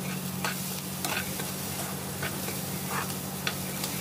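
Carrots and tofu are stir-fried in a pan, the spatula scraping and tossing in repeated strokes over a constant close sizzle, with no talking.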